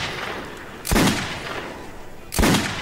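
Two loud gunshots from Metro 2033 gameplay blast into cups and plates, spaced about a second and a half apart, each with a sharp onset and a short decaying tail over a low ambient bed.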